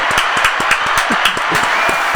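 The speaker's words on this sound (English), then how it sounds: "I want you to give a round of applause for his first appearance" A small group gives a round of applause, sparse individual claps in an irregular rhythm over a steady background hiss, fairly close and moderately loud.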